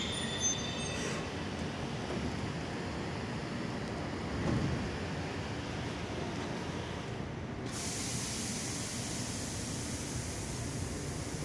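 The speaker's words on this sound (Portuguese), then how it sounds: "E agora eu vou entrar aqui no trem." Steady rushing rumble of a passenger train in motion in Brazil, near Taubaté, a constant broadband noise with a faint squeal partway through, no voices.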